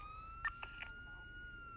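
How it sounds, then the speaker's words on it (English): A faint electronic police siren in a video game whines in a steady high tone, with a few short bursts of sound over a low background hum. "cut those sirens, please"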